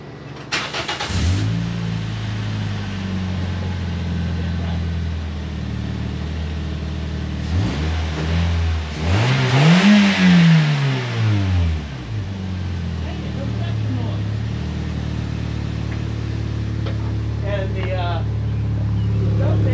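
A 2007 Toyota Yaris engine cranks and catches, then idles roughly before a strong rev rises and falls, with a raspy, leaky exhaust note throughout.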